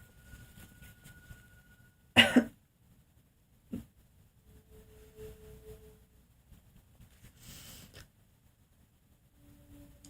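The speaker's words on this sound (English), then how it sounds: "So I just need to cough." A single sharp cough bursts out in a quiet indoor room, followed a moment later by a smaller second cough-like click, with faint movement noises and soft background hum around them.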